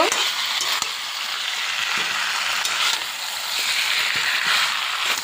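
Chicken and fried potatoes sautéed in spice paste in a pan, a constant close sizzle with repeated scraping stirs and spatula clicks throughout, no voices.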